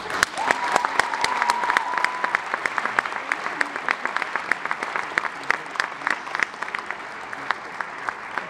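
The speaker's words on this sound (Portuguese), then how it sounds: "Um forte aplauso para o Codaptec." Loud applause from an audience at a 2015 folk festival, dense continuous clapping throughout with sharp individual claps standing out, a brief whistle-like tone near the start.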